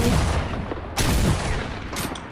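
Loud gunfire in a shooter video game, a continuous rattling barrage with two sharper bursts standing out about a second apart, close and unbroken by talk.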